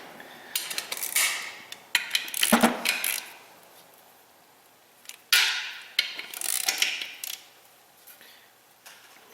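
Bolts on a rear-wheel-drive clutch being tightened with a torque wrench, giving bursts of metallic clicking, ratcheting and clattering close by, separated by quiet gaps and a sharp clank midway.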